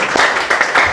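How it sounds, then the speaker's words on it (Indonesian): A church congregation claps and cheers in praise of Jesus, a loud, close, steady wash of applause with pulsing swells. "Berikan sorak-sorai buat Yesus Tuhan kita."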